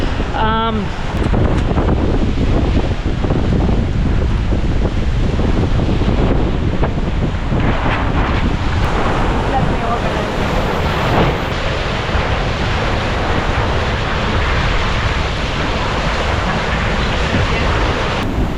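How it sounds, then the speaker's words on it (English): Loud, constant roar of 25 to 30 knot wind buffeting the microphone at sea aboard a sailing trimaran, over crashing waves and rushing water, with a few brief voices in the first seconds. "It's blown up to 25 to 30 knots."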